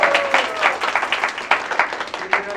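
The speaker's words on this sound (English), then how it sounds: "You can give yourself a bigger clap." Audience applause after an improv comedy show, a lively burst of clapping from a modest crowd, close and fairly loud with uneven peaks and faint voices mixed in.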